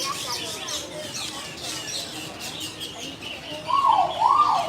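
Birds call inside an aviary at Disney's Animal Kingdom, with faint chirps and tweets over a steady crowd murmur, ending in a louder, clear two-part whistled call near the close.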